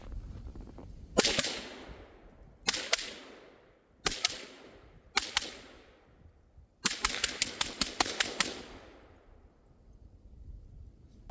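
Suppressed rifle shots fired outdoors through a suppressor can, single sharp cracks spaced apart followed by a rapid string of about eight quick shots, each with a short decaying tail.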